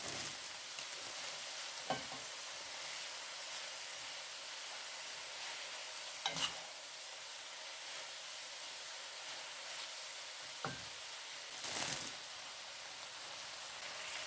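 Noodles from two packets tossed and stirred in a hot pan with seasoning, giving a soft steady sizzle with a few brief louder scrapes and clatters at intervals.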